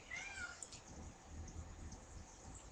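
A single cat meows briefly near the start, soft and somewhat distant, then only a quiet room hum remains.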